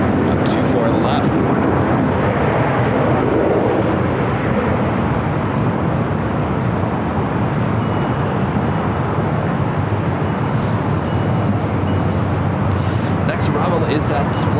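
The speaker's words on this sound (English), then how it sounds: "So we do have Delta Airlines Flight 689 heading to Raleigh, Durham with 737-900 ER." A Delta Boeing 737-900ER departing LAX from runway 24 left gives a continuous, heavy jet roar that stays loud and even throughout, with some talk underneath.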